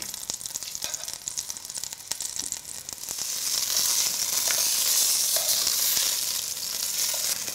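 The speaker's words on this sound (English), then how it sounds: "as our oil heats up, just going to add in our lamb shanks" Lamb shanks searing in hot olive oil in a pan on the stove, a faint crackle at first swelling into a loud, steady sizzle and hiss.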